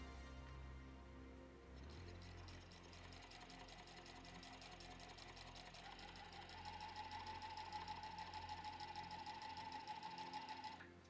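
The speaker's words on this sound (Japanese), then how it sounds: "布を折って両端ミシンで縫います" A sewing machine stitches both edges of folded fabric with quilt batting inside, running continuously with a fast, even mechanical whir, close by and steady, its pitch rising slightly partway through.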